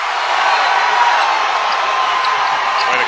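A packed arena crowd at a Boise State versus Idaho men's basketball game roars steadily, a loud continuous wash of cheering and shouting with no letup.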